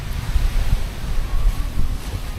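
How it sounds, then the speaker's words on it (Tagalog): Strong sea waves surge against the windy Zambales coast near Masinloc, a steady low roar of surf with gusting wind buffeting the microphone throughout. "Malakas ang alon."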